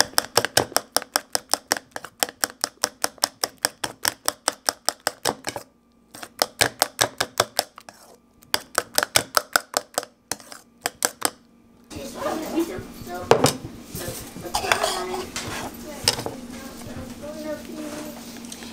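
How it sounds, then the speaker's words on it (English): A hair-treatment mixture beaten in a bowl gives rapid, rhythmic clicking strokes in several bursts with short pauses, then a voice talks over softer scraping and handling noises. "now I am going to mix this together"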